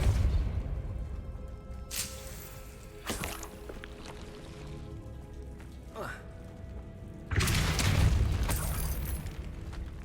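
Explosive spell impacts in Hogwarts Legacy, a few sharp broadband bursts at scattered moments with a loud sustained blast near the end, over a rumbling game background.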